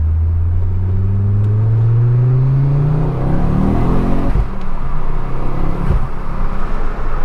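A Mk2 Ford Focus RS with a Scorpion exhaust accelerates hard in second gear, a deep, loud engine note climbing steadily for about three seconds before easing into a rough, rumbling drone.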